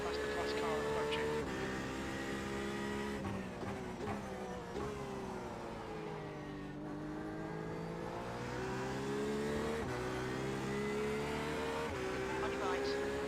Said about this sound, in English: Faster class car approaching.